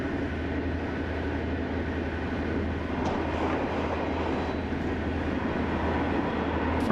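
Railway traffic from a locomotive's point of view as trains pass in the opposite direction on a clear track, giving a steady low rumble with a constant hum and faint rattles, no voices.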